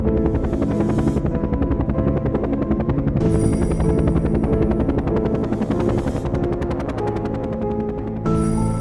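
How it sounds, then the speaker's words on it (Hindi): A cartoon helicopter landing, loud, continuous rotor chop and engine roar, rapid rhythmic thudding that stays close the whole time. "बाबा ने हेलीकॉप्टर लैंड किया।"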